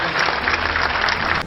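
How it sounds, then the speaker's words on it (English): Comedy club audience applauding in a steady, dense burst of clapping that stays loud throughout and cuts off near the end. "Let's do just a round of applause to make sure that guy is safe and gets home."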